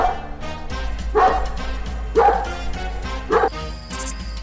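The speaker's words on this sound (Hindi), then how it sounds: "बबलू के वफादार कुत्ते मोती ने खौफनाक तरीके से भौंकना शुरू कर दिया" A dog barks sharply several times in a row, loud and close, with short gaps between the harsh yips.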